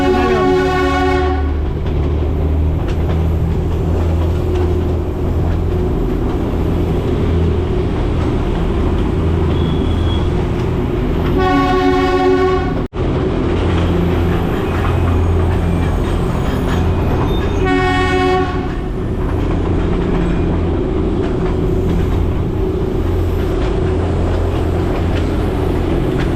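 The Darjeeling toy train runs along its track beside a road, rumbling and rattling loudly and close, with two long horn blasts sounding over the steady clatter.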